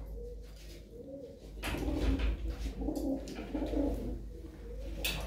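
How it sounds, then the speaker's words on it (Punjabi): An old purebred Mirab pigeon that still sires young coos in a breeder's loft, giving a run of low, throaty cooing calls up close. Faint background noise sits under the calls, with no talking. "ਆਹ ਤੁਹਾਨੂੰ ਅੱਜ ਇੱਕ ਪਿਓਰ ਮੀਰਾਬ ਕਬੂਤਰ ਦਿਖਾਉਂਦੇ ਹਾਂ ਬਾਈ"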